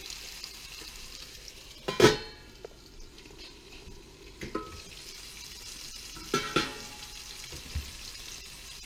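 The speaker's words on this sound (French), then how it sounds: "il n'y a plus qu'à refermer la poêle, attendre que ça cuise et que ça soit bien doré avant de les retourner." Food frying in a covered pan makes a soft, steady sizzle, broken by a few sharp clatters and bumps of the lid and utensils.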